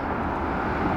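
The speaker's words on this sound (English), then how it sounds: "You can hear the airplanes going by." Airplanes passing overhead near the South Park Bridge south of downtown Seattle, a steady, fairly faint broadband roar with no talking.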